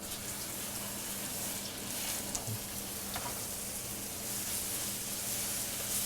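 Pork tenderloin sears in extra virgin olive oil on a preheated flat grill, with a dense, steady, close sizzle and faint scattered pops throughout.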